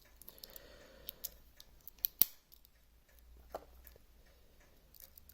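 The spring-powered scissors on a Victorinox Explorer Swiss Army knife give a series of small, crisp snips and clicks, faint and close, one sharper snap standing out, alone in a quiet room.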